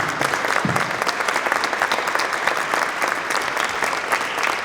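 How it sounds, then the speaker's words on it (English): An audience at a local news media panel event breaks into sustained applause, dense clapping from a sizable crowd lasting several seconds at a fairly even level. "let's have a round of applause for our group"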